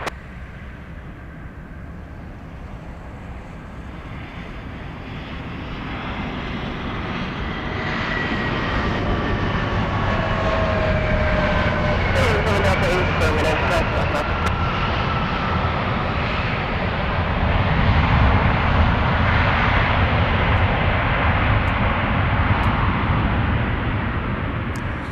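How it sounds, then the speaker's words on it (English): Airliner taking off from runway 25 left, its engine roar building from a low rumble to a loud sustained rush with a whining tone that rises and shifts as it climbs away. "772, runway 25 left, clear for takeoff"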